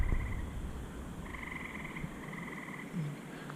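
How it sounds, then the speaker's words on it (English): Frogs croak at a forest campsite in Rockland Preserve along the New England Trail, a faint, rapid trilling chorus in repeated bursts of a second or so over quiet outdoor ambience. "Can you hear those frogs?"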